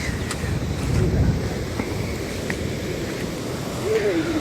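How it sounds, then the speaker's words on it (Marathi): A river swollen by heavy monsoon rain rushes past in a constant broad roar, with gusts of wind buffeting the microphone and a faint voice near the end. "नदीचा तर लय आवाज यायलाय आहे"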